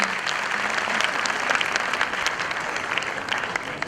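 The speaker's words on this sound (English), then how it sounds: "Another round of applause for them, please." Applause from an audience at a kids' school annual day after a children's dance performance: continuous dense clapping, loud and even throughout, with faint crowd murmur underneath.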